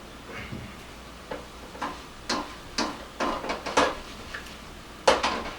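Chicken and onion stir and flip in a pan with a utensil, giving scattered metallic scrapes and clacks at an uneven rhythm, close and fairly quiet over a low background hum.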